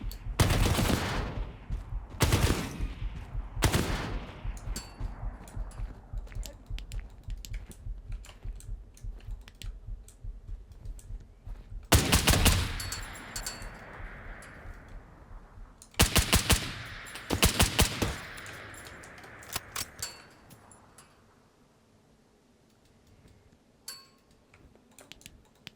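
Rifle gunfire in the video game Operator: Tier 1, several sharp bursts of rapid automatic shots separated by quieter stretches of faint clicking, loud and close.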